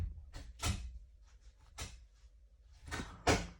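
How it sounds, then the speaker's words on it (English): Post arrives through a front door letterbox: a handful of sharp, separate clacks and rattles of the flap and mail spaced over a few seconds, fairly close and isolated in a quiet room. "that's just post coming through the door"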